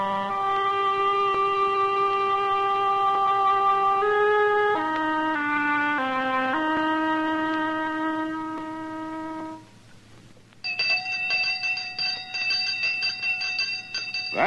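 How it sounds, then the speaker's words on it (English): A village school bell rings out in sustained, steady tones that shift pitch partway through, then a brighter, higher ringing follows after a short dip, loud and alone with no talk. "That's the sound of the village school bell"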